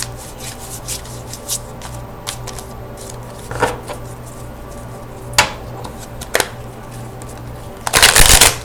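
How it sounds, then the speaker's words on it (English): Tarot cards being shuffled close up, with soft papery riffles and rubs in short irregular bursts, and a louder, denser shuffle at the end, alone with no talk. "let's give a couple more shuffles here to the cards"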